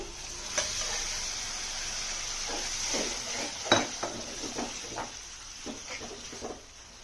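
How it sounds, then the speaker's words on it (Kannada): Cooked green gram goes into a pan of frying tomato and onion for a curry, giving a soft, steady sizzle broken by scattered stirring scrapes and one sharp metallic clink. "ಈ ಹೆಸರು ಕಾಳನ್ನ ಇವಾಗ ಹಾಕ್ತೀನಿ"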